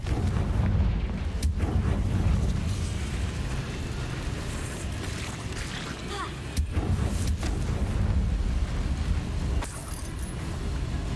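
Confringo spell explosions in Hogwarts Legacy, heard as a few sharp blasts and crackling bursts over a constant dense rumble of game sound, loud and close, with no clear talk over it.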